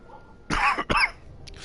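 A sick person with phlegm coughs twice in quick succession, two harsh, wet, close bursts.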